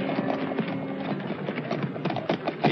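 Horse hooves clip-clop steadily at a brisk pace as riders set off in a 1958 period film, mixed in with music and other busy soundtrack noise throughout.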